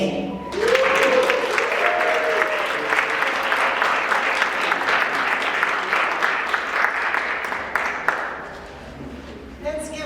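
Loud, sustained audience applause at a Jamaican Heritage Month celebration, dense clapping from a large crowd lasting several seconds before tapering off, with a few voices and cheers mixed in near the start.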